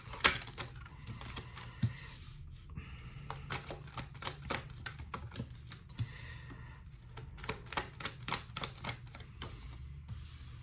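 Tarot cards are handled, with crisp, irregular bursts of shuffling and snapping as the cards are mixed and pulled from the deck, close up, with no talking.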